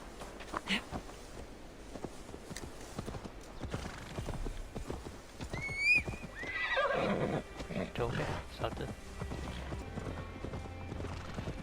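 Horse in Assassin's Creed Valhalla: repeated clip-clop of hooves through the clip and a clear neigh near the middle, set against game ambience, with a character speaking briefly.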